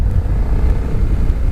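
A BMW C 400X scooter with a single-cylinder 350 cc engine gives a steady, close, low rumble with no talk over it.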